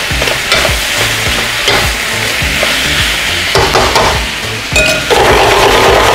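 Beef and vegetables stir-frying together in a hot pan, loud constant sizzle with rhythmic scraping and tossing strokes of a utensil and occasional clinks, close up.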